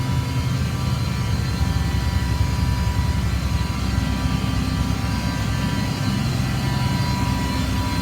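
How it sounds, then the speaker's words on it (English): Rear air conditioner of a 2004 Blue Bird All American 72-passenger school bus blowing, a steady loud broadband whoosh with a low hum running unbroken throughout, no voices. "The rear AC is blowing"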